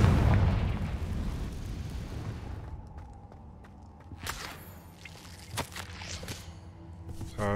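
A Confringo fire spell blasts in Hogwarts Legacy on PS5, a loud booming burst at the start that rumbles and fades, followed by scattered sharp pops, crackles and footstep-like thuds.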